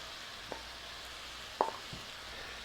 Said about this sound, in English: toss in the mushrooms